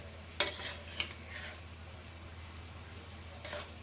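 Chicken cooking in a pan for homemade pan pizza, a faint low sizzle with a few sharp clinks of a utensil against the pan near the start and end.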